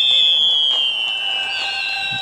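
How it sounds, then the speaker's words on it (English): Fireworks burn in the video game Little Inferno, a loud, steady whistling and fizzing that slowly falls in pitch for a couple of seconds. "I think this does like fireworks, right?"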